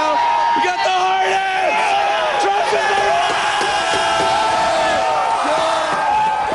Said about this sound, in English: The crowd's going right now.